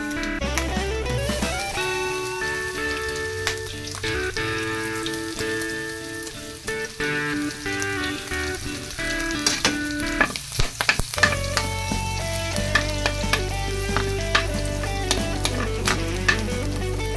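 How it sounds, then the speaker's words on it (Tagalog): Garlic sautéing in a small amount of cooking oil, a steady close sizzle with light stirring and scraping clicks running throughout, for a Filipino ginataang langka dish. "Ito, igisa natin ang bawang."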